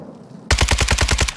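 Rapid automatic gunfire from a video game weapon, a loud burst of about ten evenly spaced shots following a brief quiet moment.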